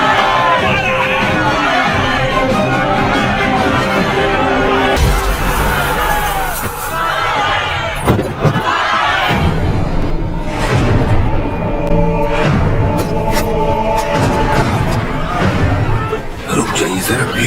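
Noisy crowd of villagers in a dramatic film scene, loud shouting and babble with swells of cheering and whooshing movement, under dubbed speech and music.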